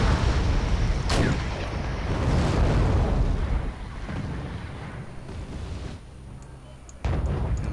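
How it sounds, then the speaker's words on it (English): Missile launches and explosions in the war strategy game Wargame: European Escalation, with jeeps firing at tanks. A dense rumbling barrage of blasts and whooshes runs throughout, with sharp loud bursts near the start and near the end. "Going to launch missiles."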